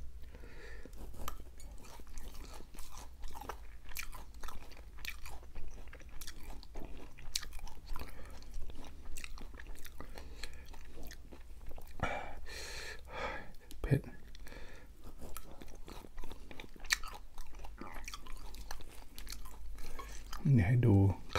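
Big mouthful of sea grapes and live shrimp chewed close to the mic in an ASMR eating show, wet crunchy bites and smacking repeating steadily with occasional breaths and a louder burst near the end.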